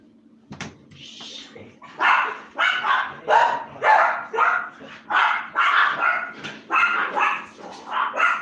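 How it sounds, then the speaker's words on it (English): Several dogs bark in loud repeated bursts indoors, about a dozen yips and barks in an uneven rhythm after a brief thump, close to the listener with no talking over them. "I'm sure you guys all heard that. My dogs are going crazy."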